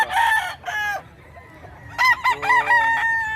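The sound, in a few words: fighting roosters crowing at a market in Bocaue, Bulacan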